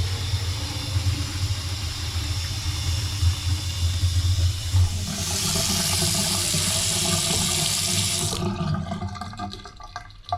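Water runs steadily from a faucet during home repair work in a Huntington Beach town home, a continuous close hiss with a brighter, louder stretch in the middle before the flow cuts off near the end, with no talking.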